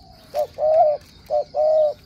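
Spotted dove cooing nearby, two rounds of a short note followed by a longer drawn-out coo, clear and loud over a faint hiss.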